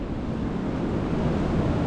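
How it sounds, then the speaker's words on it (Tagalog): Ocean waves break and wash up a beach, a continuous broadband roar of surf mixed with wind buffeting the microphone, loud and close with no voices. "Dito ang talbukan, yung mga lalagpas na alon, yun yung mga dila"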